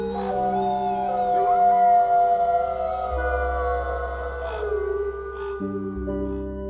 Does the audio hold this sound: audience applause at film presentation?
no